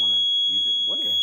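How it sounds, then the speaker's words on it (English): A small electronic buzzer powered by a homemade clay and grape juice battery emits a steady, thin high-pitched tone throughout, with people talking over it. "let's see if this buzzer will work with these batteries"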